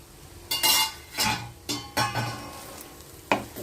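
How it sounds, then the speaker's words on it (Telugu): A sesame-powder prawn curry sizzles in a pan while a spoon scrapes and stirs it in five or six separate strokes, each a short scratchy burst over a soft, steady fry. "ఈ తెలగపిండిలో నీరంతా కూడా ఇంకిపోయినంత వరకు ఉడికించుకుందాం"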